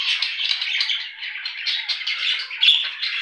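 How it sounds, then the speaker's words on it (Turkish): Rapid, bright chirping and chattering from a female budgerigar, continuous and close, with short squawky bursts near the end. "Görmüş olduğunuz bıcırık dişi muhabbet kuşu."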